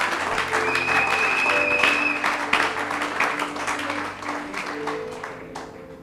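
A church congregation applauds during a Sunday service, a sustained wash of many hands clapping in a reverberant hall, gradually fading toward the end with faint tones lingering underneath.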